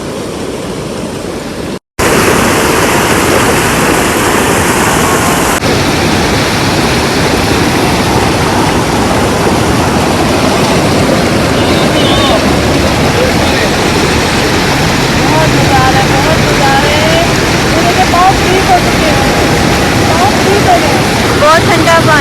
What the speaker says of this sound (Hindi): ये देखिए वहाँ से ये आबशार आ रही है